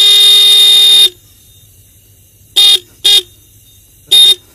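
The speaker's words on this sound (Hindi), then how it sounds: "तो इसका जो हॉर्न है वो काफ़ी तगड़ा बजता है, जैसे कि बाइक का बजता है सेम उसी तरीके से।" A loud electric horn fitted to a bicycle, as strong as a motorbike horn, gives one long blast and then three short honks, close and clear, with no talking.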